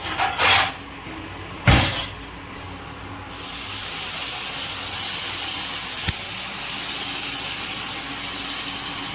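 Water poured into a hot pan of cooking chicken on an outdoor stove built from dug earth and bricks: a couple of sharp clatters, then a sustained, even steam hiss that lasts several seconds.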